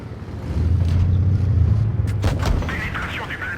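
A tank cannon fires in World of Tanks Blitz from a French AMX M4 mle 54, a heavy boom rolling over a constant engine rumble, with a voice talking over the game.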